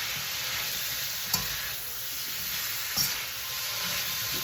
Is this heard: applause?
no